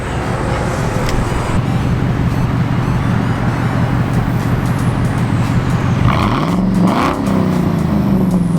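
Supercharged 5.4-liter engine of a 17-year-old Ford SVT Lightning pickup, heard as a low rumbling exhaust amid wind and road noise from inside or near the moving truck, with a brief rev and rising pitch toward the end.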